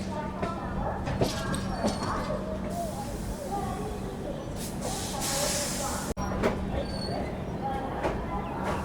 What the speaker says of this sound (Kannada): ಪುಣೆ ಕನ್ಯಾಕುಮಾರಿ ಎಕ್ಸ್ಪ್ರೆಸ್ ಈಗ ಎಂಟ್ರ್ ಆಗೈತೆ ರೀ ಗುಂತಕಲ್ ಜಂಕ್ಷನಿಗೆ